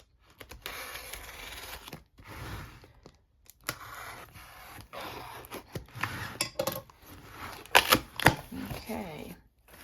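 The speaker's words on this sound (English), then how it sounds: "I've got my little box cutter here because it's taped up pretty good." A box cutter slices through packing tape on a taped-up cardboard box, giving irregular short scratching and tearing bursts with brief pauses, close and fairly quiet.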